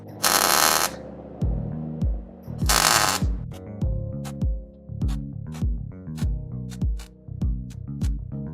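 A welder on a 1968 VW Radical Custom project, turned up very hot, gives two loud, harsh, crackling bursts of about a second each, followed by a run of rhythmic knocking sounds.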